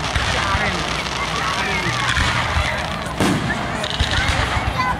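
Independence Day fireworks burst at a township display, with a dense continuous crackle and rumble from a distance and a sharper bang near the end.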